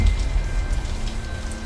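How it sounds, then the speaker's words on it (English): Steady rain patters on a surface in a constant, fairly loud wash with no breaks. The sound stays even and close throughout, with no voices. "Rain intensifies slightly."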